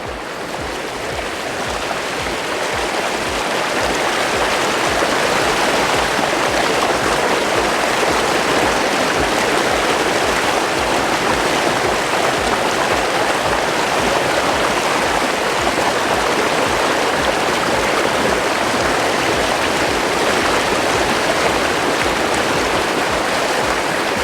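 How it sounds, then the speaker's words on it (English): Fast-flowing water draining on a homestead rushes in a loud, steady torrent, close by and unbroken from start to finish. "to essentially keep the water down by draining it. But it's moving pretty quickly"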